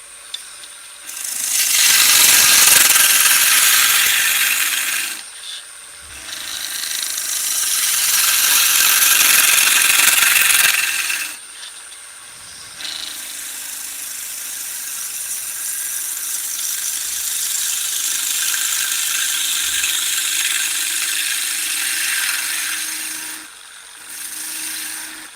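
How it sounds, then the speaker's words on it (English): Copy turning on a wood lathe with a skew chisel: loud, sustained scraping and rasping of the tool on spinning wood, in long passes broken by short pauses, over a steady motor hum, with no talking. "Just put a little cove into here. And use the skew chisel to come down onto it."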